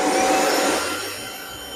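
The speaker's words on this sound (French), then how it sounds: "il va venir vidanger en 2 fois 7 secondes l'aspirateur." A SwitchBot K10+ Pro Combo base empties a robot vacuum with a loud whoosh that roars briefly, then tapers off into a quieter hiss as the suction winds down.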